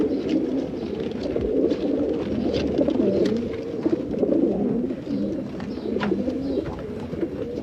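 Hundreds of racing pigeons coo together in baskets loaded into rail wagons, a dense, continuous low burbling murmur with occasional louder coos and faint rustles, close and steady.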